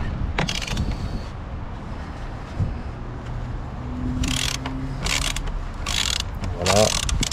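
A ratchet with a 10 mm socket loosens the negative battery terminal on an Audi Q2, giving several short bursts of rapid clicking spread across a quiet garage background, the last burst sounding close and crisp.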